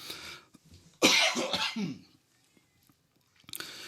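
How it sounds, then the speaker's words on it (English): A person fighting a cough gives a loud, close, raspy cough with a throat-clearing tail, followed by quiet and a short final burst. "Sorry, I've been fighting a cough."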